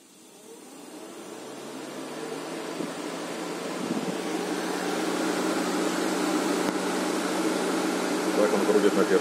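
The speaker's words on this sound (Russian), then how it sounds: "Так он крутит на первой скорости." Cooling fan of an Opel Corsa D 1.4 automatic with climate control running at first speed, a steady broadband whir that builds gradually and holds, with talk over it.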